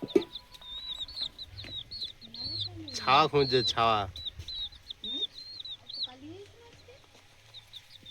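Young chicks suffering in the heat give constant high peeping chirps mixed with soft clucks, and a person talks briefly partway through.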